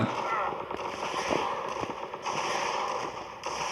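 Rapid gunfire in the zombie shooter game Zombie Defense, dense crackling bursts running throughout, with a voice talking over it.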